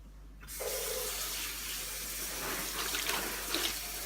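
Water runs from a tap into a container, starting abruptly after a brief quiet moment and then pouring steadily and fairly loud for several seconds, with the sound shifting slightly as the container fills.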